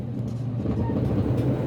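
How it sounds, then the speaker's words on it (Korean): Steady low rumble inside a train heading to Zermatt, Switzerland, continuous and even throughout. "체르마트로 향하는 기차에 올랐다."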